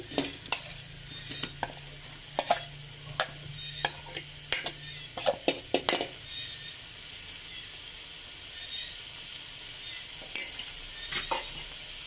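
Spices for a sour pineapple, coconut shoot and pork rib soup are stirred and fried in a pot, with a soft continuous sizzle under a run of sharp utensil clicks and scrapes that thin out toward the end.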